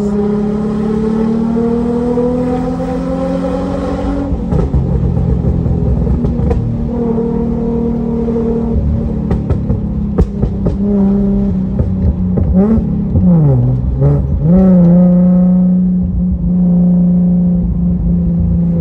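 A Nissan 350Z fitted with a Cobra phase 3 exhaust cruises steadily with a loud, close droning hum, easing off and then swelling through a gear change partway through. There is no talking.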